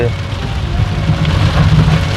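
Heavy rain pounds steadily on a car in Thoothukudi during a thunderstorm, a dense, loud, continuous hiss and drumming with a voice talking over it.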